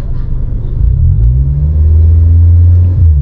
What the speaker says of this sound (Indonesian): Nah, sekarang aku akan coba ngegas ya.